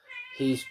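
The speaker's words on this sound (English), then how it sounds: "If you hear a cat meowing or screaming bloody murder," A house cat gives a short, close meow, and a voice starts speaking as it ends.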